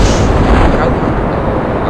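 A rocket fires and blows up in the Kerbal Space Program video game, a loud sustained roaring rumble and blast that fades slightly toward the end.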